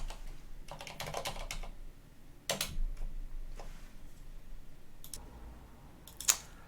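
Rapid clicking keystrokes on a computer keyboard come in short clustered bursts with pauses, close and fairly quiet, ending with a sharper single key tap.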